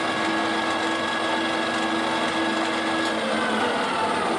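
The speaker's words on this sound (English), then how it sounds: "I'll just extend the drill out a little bit, see if I can get it through." A drill with a 5.9 mm bit bores into an oil gallery on a BSA motorcycle bush-to-bearing conversion, giving a loud, steady whining grind that runs unbroken for several seconds, no voices.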